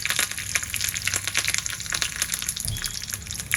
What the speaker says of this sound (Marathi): तेलावर मिरची, कढीपत्ता घातला